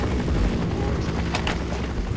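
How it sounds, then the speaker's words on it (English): A helicopter in the video game Half-Life hovers close by, its rotor producing a loud, steady droning rumble that fills the whole stretch with no pause and no speech. "now we gotta make this before the helicopter comes back"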